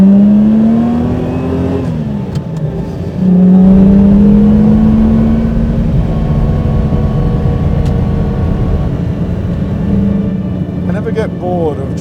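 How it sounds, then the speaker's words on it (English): Lamborghini Miura P400 S from 1970 with a 4-litre V12 revving on narrow English country roads, a loud sustained engine drone with pitch rising and falling through gear changes, heard from inside the car. "never get bored of listening to that sound. V12, 4 litre,"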